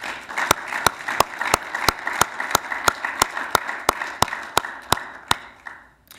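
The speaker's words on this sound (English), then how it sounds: "I'd like to start out by asking for a round of applause" A conference hall audience applauds at a NATO keynote, with sharp, evenly spaced claps standing out above a steady wash of crowd clapping that fades away near the end.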